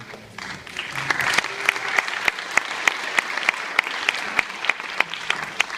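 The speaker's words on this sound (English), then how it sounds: "One more round of applause." An audience at a musical theatre dance competition applauds, a dense wash of clapping with sharp, evenly spaced claps standing out in a steady rhythm, loud and close.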